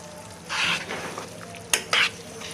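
Mutton mince with spices and chopped coriander frying in a pan, sizzling under intermittent stirring scrapes, with a couple of sharp clinks of a utensil against the pan near the end.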